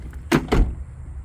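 A car door on a Mazdaspeed 3, being tested after a door lock actuator install, gives two quick close thuds about a quarter second apart with a latching click, close by and loud, no talk.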